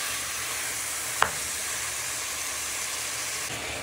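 Onions, garlic, chilli and pork fry together in a pan with a steady, even sizzling hiss and one brief sharp click partway through.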